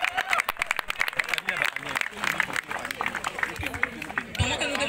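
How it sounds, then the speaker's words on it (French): A wedding audience at a civil and religious ceremony applauds the couple with dense, uneven clapping that rises and dips, mixed with crowd chatter and voices speaking over it. "merci d'applaudir le couple"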